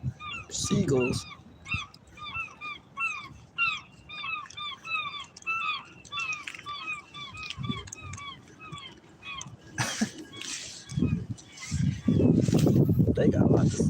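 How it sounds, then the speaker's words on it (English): Seagulls call outdoors while fishing, with many repeated, rising-and-falling squawks overlapping at close to mid distance, and louder rumbling noise and some voice toward the end. "They definitely have a lot to say, those seagulls."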